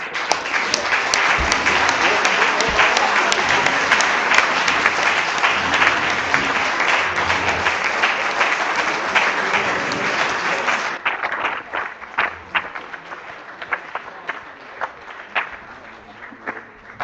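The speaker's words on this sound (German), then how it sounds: "Ich finde, Sie haben auch noch mal alle einen Applaus verdient." A party conference audience applauds the people on stage: loud, dense, continuous clapping filling the hall, then thinning abruptly into scattered individual claps and fading toward the end.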